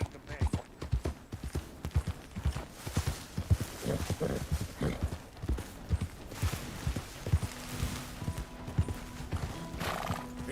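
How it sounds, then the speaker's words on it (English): Horse hooves in Red Dead Redemption 2 clip-clop at a steady, brisk rhythm close by throughout, with a whinny in between and a voice speaking over the hoofbeats. "that horse looks like a fine traveling companion"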